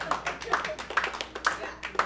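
Audience at a live stand-up comedy show at a Los Angeles comedy club, clapping in short bursts that rise and fall at a regular pace, close by and moderately loud.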